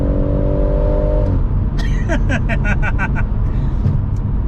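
A BMW M140i with a stage 1 tune idles with a tonal hum, then revs sharply in a series of rapid, stepped bursts at close range, under a steady engine drone.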